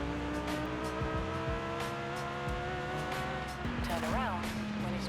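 Game engine roar of a 1200 hp twin-turbo Lamborghini driven off-road in Forza Horizon, loud and steady with shifting pitch and a gear change midway, a voice talking over it.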